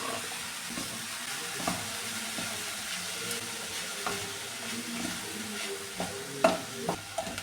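Banana flower and cowpea stir-fry being stirred in a pan, a soft steady sizzle with scraping spoon strokes and occasional louder clinks, close and continuous with no talking.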